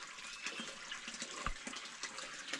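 Water flows steadily along a small village irrigation channel near a jungle path, a soft continuous trickle and gurgle with faint splashes, alone and fairly quiet.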